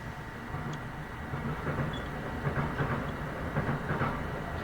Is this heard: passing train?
yes